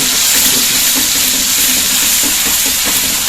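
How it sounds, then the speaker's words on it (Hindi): Ground tomato-onion masala roasting in hot oil in a pan, a loud continuous hiss of sizzling with faint stirring knocks underneath, close and steady throughout. "और हम ये जो हमने मसाला ये बनाया था, अब हम इसको डाल देंगे।"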